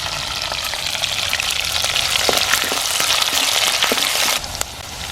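Ginger, garlic and green chilies frying in a pan over a wood-fired stove, a dense steady sizzle and crackle with scattered pops, close and fairly loud throughout.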